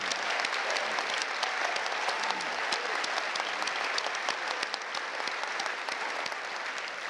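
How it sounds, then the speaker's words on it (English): An audience at a talk applauds for Kobe, a steady dense clapping that carries on for several seconds at moderate level before easing off slightly near the end. "can we clap for Kobe for a second?"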